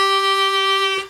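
A single clean, steady note is played on hole 2 of a harmonica, pure and sustained for about a second before stopping abruptly.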